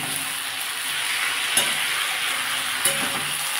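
Soaked lentils and helencha greens are stirred in a frying pan, a continuous sizzling hiss with two sharp utensil scrapes against the pan, close and steady, with no voices.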